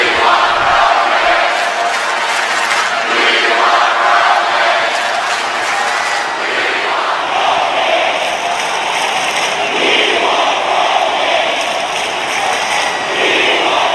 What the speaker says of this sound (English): the crowd, signifying that they want Roman Reigns